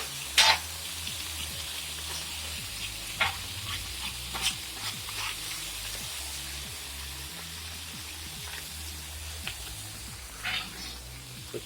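Potatoes sizzle on an outdoor flat top griddle, a soft, steady frying hiss with occasional spatula scrapes and taps, fairly faint, no voices.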